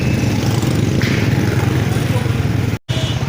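A motorcycle rides along a village road in Kot Chutta tehsil on a cold day, giving a steady, loud low engine drone with wind noise that briefly cuts out near the end.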